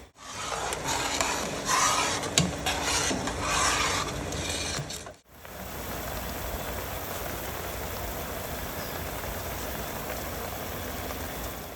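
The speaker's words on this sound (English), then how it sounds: "Still letting that alcohol cook off." Marsala wine simmers in a pan as its alcohol cooks off, a steady rain-like hiss of bubbling; a clattering, shuffling first half cuts abruptly into an even, continuous sizzle.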